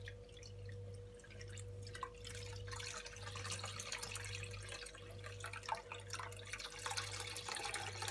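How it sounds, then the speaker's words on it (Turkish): Homemade lemonade is strained through a cloth, dripping and trickling faintly and steadily into a container under a low background hum. "Beze döktüm ben bu limonatayı böyle kenarlarından aynı süzdüreceğim böyle"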